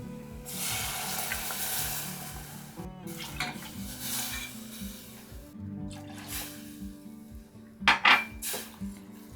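A spoon stirs béchamel sauce in a pot with milk added, giving continuous scraping and clinking against the metal, with a sharper clatter near the end.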